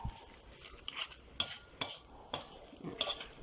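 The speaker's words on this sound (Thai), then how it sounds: "ผัดพริกหมูทุกอย่างให้เข้ากัน" Pork and chili paste being stir-fried in a pan, with a spatula scraping and clinking against the metal in uneven strokes over a soft sizzle, close and moderately quiet.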